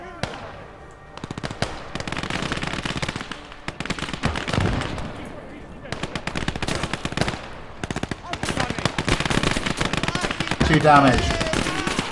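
Dense automatic and rifle gunfire in the Winter War setting of Call to Arms: Gates of Hell, loud and continuous with rapid bursts and explosions throughout, while someone talks over the battle.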